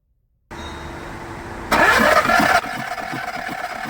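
A Skoda Fabia / VW Polo diesel engine with a starting problem cranks loudly and close up for about a second, then settles into a rough idle with an uneven, chugging pulse.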